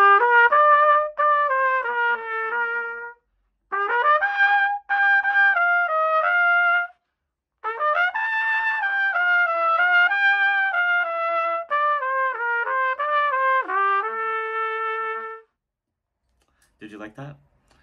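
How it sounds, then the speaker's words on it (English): A solo trumpet plays a bright melody from Howl's Moving Castle in phrases with short pauses between them, close and clear, and a small noise follows at the end. "today I'll be demonstrating the trumpet."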